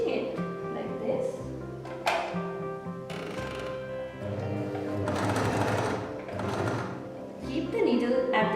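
A home sewing machine stitching fabric runs in steady motor bursts with a rhythmic needle clatter, loud and close, pausing briefly between runs.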